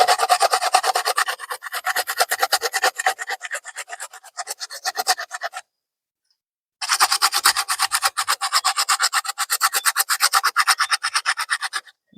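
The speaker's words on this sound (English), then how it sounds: "Grate the pumpkin in the flour." Pumpkin rubbed against a hand grater gives rapid, rhythmic rasping strokes, close and loud, in two long runs with a short silent pause between them; no voices.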